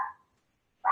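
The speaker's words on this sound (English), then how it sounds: "sorry about the doggy interruption" A dog at a home in the woods gives two short, loud barks close by, separated by a brief silence.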